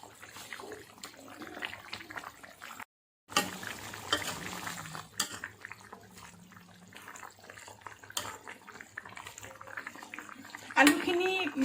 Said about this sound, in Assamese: আৰু আঞ্জাখিনি ইয়াত হাই ফ্লেমত উতলি আছে